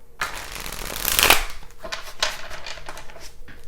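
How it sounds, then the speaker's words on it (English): Tarot cards are shuffled close up, a rapid riffle building to a crisp fluttering burst, followed by several softer slides and taps as the deck is handled. "Let's give this a quick little shuffle."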